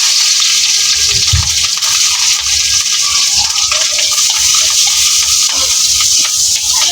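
Water gushes into a pot of cooking rice, a loud, close, continuous pouring and churning rush that lasts throughout, with no speech over it.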